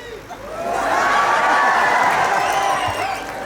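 A live crowd at a Himachali comedy show during the Baijnath Shivratri fair cheers and claps steadily, with scattered whoops and shouts rising over a dense, continuous roar of voices.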